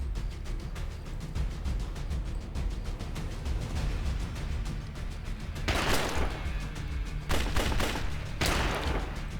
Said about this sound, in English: Okay, that guy has a shotgun.